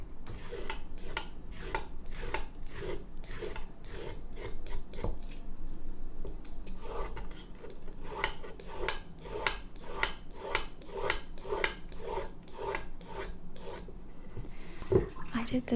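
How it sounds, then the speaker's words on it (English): Carrots scraped with a vegetable peeler, a steady series of crisp, close rasping strokes at an even rhythm, with a short pause midway before the strokes resume. "I always peel my carrots this way."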